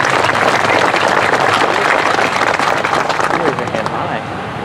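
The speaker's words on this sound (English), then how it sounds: "a round of applause and thanks to the students from CVA" Dense, continuous applause from a sizable crowd at a statue dedication, loud and steady throughout with a slight fade near the end, voices mingling faintly in the background.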